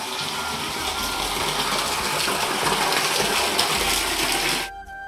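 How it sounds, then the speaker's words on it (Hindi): Water gushes steadily into a stone kund pond at a Mahadev temple in the hills, a loud, continuous rushing flow heard close up that cuts off abruptly near the end. "यहाँ पानी आ रहा है और काफी बढ़िया आ रहा है पानी का।"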